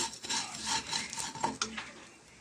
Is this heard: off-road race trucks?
no